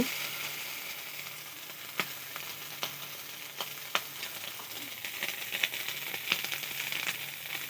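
Pieces of kuche eel fish fry in a pan with a continuous loud sizzle, punctuated by occasional sharp pops and clicks of spattering oil or a utensil, close up and with no talking.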